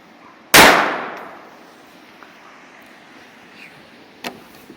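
A single loud, sharp crack from a Jennings .22 LR pistol firing a Remington 36 grain hollow point into a TV at close range, with a long decaying ring afterward and a faint click later.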